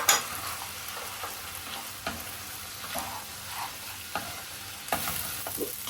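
Vegetables and peanuts stir-fried in a pan for a liver singara filling, a continuous sizzle broken by repeated scraping and clattering strokes of a spatula, close and clear with no talk.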